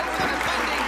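Applause for the state champions in the Mississippi House chamber, a dense, steady wash of clapping filling the brief moment at full level with no pauses.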